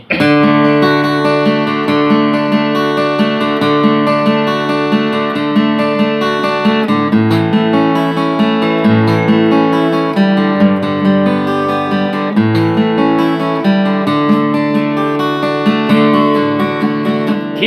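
A vintage Japanese-made acoustic guitar with 11-gauge strings played steadily, strummed chords and picked notes ringing out clearly at a consistent level with no voices.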